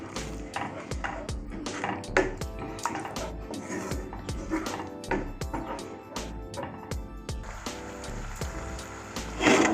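Spoon beating mildly sour yogurt in a cup for an okra masala gravy, with repeated quick clinks and scrapes in an irregular rhythm, close and moderately loud, with no talking.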